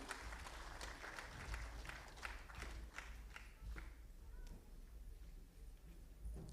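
An audience at a foundation scholarship event applauds, a faint, distant patter of many hands clapping that continues steadily and thins slightly toward the end.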